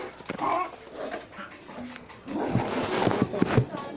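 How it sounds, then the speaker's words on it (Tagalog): A dog whimpers and yips in short, uneven bursts, close by, while people talk over and around it, getting busier toward the end. "Baka yung aso eh."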